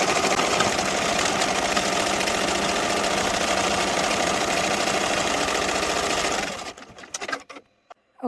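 An embroidery machine sews a satin stitch around a pink handle on a T-shirt, a loud, fast, even mechanical chatter that runs steadily for several seconds, then stops abruptly and leaves a few scattered clicks.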